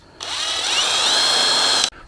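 A power drill drives a 3-inch screw into rough-cut cedar planking on a horse-fence estate gate. It gives one steady, loud, high whine that holds for nearly two seconds and then cuts off sharply, with no voices.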